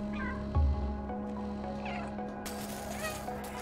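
Several short cat meows from the video game Stray sound over a steady low hum of game ambience, moderately loud and close, with a brief thump and a wash of noise toward the end.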